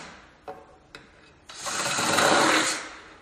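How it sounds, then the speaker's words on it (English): A drill bores holes through an ATV's plastic fender: a couple of light taps come first, then a steady, loud grinding whir builds and holds for over a second before easing off. "I'm just taking that same size drill, and I'm just going to drill out each one of these holes"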